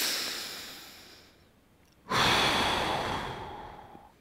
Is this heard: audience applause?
no